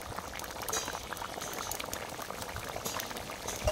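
Rui fish curry with cauliflower bubbles in a pot, a continuous close burble of boiling broth with faint scattered pops, steady and moderately loud with no talking.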